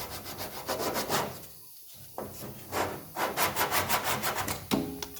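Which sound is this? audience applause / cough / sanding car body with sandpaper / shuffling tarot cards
sanding car body with sandpaper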